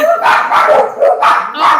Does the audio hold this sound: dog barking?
yes